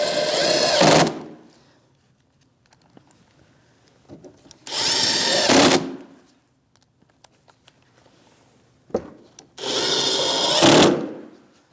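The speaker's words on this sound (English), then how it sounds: "Same 7mm socket, 3 screws with the washers, and we'll tighten them right up." Three loud bursts of a power tool whirring as it drives headlight screws with a 7mm socket on a 2016-2025 Chevrolet Malibu, each lasting about a second, separated by quiet gaps with light handling clicks.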